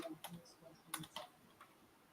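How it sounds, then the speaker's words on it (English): Typing on a computer keyboard, a few sparse, quiet key clicks and taps in irregular rhythm, faint and close, alone without talk. "I'm having a decent typing day out there"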